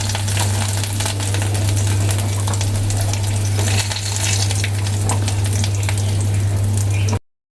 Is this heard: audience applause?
no